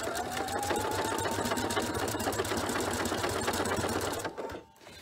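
Sewing machine stitching along the straps of a fabric tote bag, a steady close, fast mechanical whir with rapid needle chatter that runs continuously before cutting off near the end.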